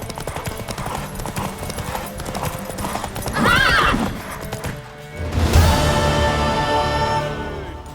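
Horse in The Witcher 3: Wild Hunt video game, rapid clip-clopping hooves with a loud neigh midway, then heavier galloping and a clatter, all fairly close and loud.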